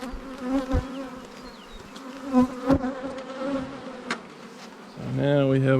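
Honey bees swarm and hum steadily around an opened hive on a winery farm, a dense close buzz with occasional louder passes and knocks from handling the boxes.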